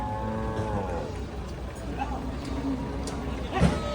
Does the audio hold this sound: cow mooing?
yes